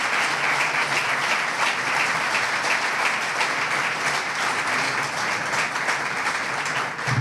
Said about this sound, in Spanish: Un fuerte aplauso también para él